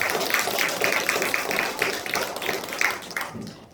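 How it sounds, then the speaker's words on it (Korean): A congregation at a Presbyterian church in Jeonju claps to welcome a newcomer, making moderately loud clapping with a loose rhythmic pulse for several seconds before it fades out. "우리 박수로 환영하겠습니다"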